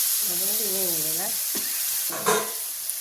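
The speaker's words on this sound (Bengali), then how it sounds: "একটু জল দেওয়া হলো, নাহলে মশলাটা পুড়ে যেতে পারে।" A spice paste of dry chilli powder sizzles steadily in a pan after a splash of water is added, with a hissing sputter throughout and a brief voice early on before a louder burst of sizzle near the end.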